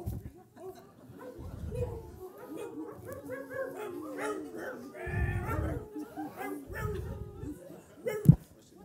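Audience members at a talk on pensions by Bernard Friot at La Carmagnole imitate dogs with their voices: scattered barks, yips and whimpers from several people, close and lively, with a sharp loud yelp near the end.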